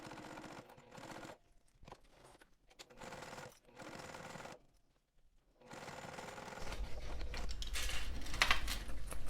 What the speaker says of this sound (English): take this to the sewing machine and stitch it using the seam allowance